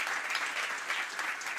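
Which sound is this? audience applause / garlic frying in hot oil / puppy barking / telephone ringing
audience applause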